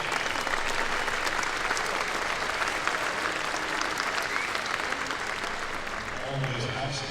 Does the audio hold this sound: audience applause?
yes